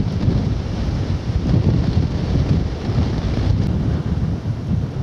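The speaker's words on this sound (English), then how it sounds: "Wind is certainly picking up." Strong wind buffets the microphone during a countryside walk from Ham Street to Appledore past a mound near a former coastline, a loud continuous low roar with gusty swells and no speech.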